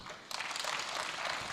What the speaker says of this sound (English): Let's give him one healthy clap.